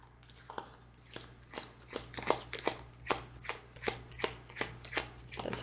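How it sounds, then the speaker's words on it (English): A tarot card deck shuffled by hand, giving about a dozen crisp riffling bursts in a steady rhythm, close and fairly quiet, with no talking. "That's how I'll shuffle this deck"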